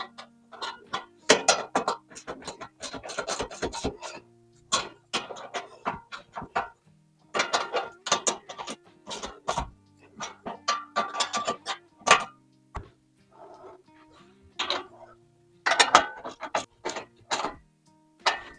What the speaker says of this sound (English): now we're going to tighten all 6 of those bolts down